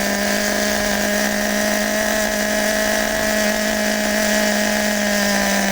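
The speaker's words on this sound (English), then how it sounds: "OS engine running rich and loud." A small high-revving OS nitro engine in an HPI Super Nitro RS4 RC car, running rich, drones steadily and loudly with a strong buzzing whine, continuous and unchanging throughout.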